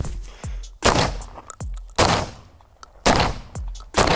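Shotgun blasts fired at cardboard targets: four loud, sharp reports spaced roughly a second apart, each with a quick decaying echo, close and with no talk over them.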